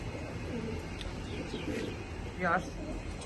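A red checker racing pigeon bred for long-distance racing gives a short soft coo in a pigeon loft, faint and brief beneath steady background noise.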